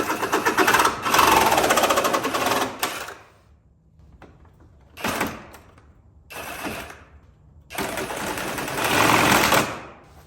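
Angle grinder cutting through metal while building a turbo Suburban, three loud harsh bursts of grinding separated by short pauses, close up with no talk.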